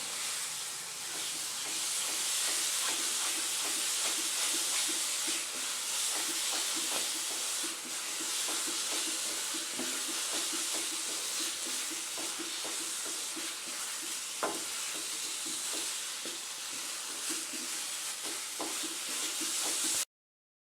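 Coconut burfi mixture cooks in ghee in a pan, giving a continuous sizzling hiss with soft scraping and stirring noises throughout, steady and close, with no talking.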